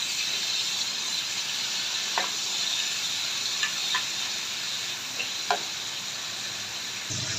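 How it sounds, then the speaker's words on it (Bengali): Dried hilsa fish frying in oil with garlic paste in a hot frying pan, a steady broad sizzle throughout with a few brief scraping clicks from stirring, close and even. "রসুন বাটা দিয়ে শুটকিগুলো আমি ভেজে নেব।"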